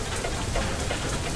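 Hail pelts down steadily in the video game Far: Lone Sail, a dense, even patter of hard drops hammering surfaces throughout with no let-up and no voices.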